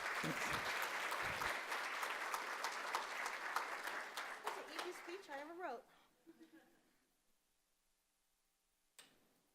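A conference audience at a young women's career event applauds loudly, dense clapping with a few voices mixed in, thinning out and tapering into quiet near the end.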